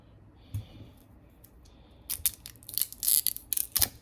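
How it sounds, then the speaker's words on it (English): A red plastic tamper tag is peeled and snapped off a bottle seal. A faint click comes first, then a burst of close crinkling and crunching plastic with sharp crackles near the end, and no talking. "we're just gonna take off this plastic bit"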